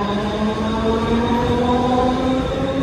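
A train rumbles steadily with a constant engine drone and faint high whine, loud and close throughout, ending abruptly.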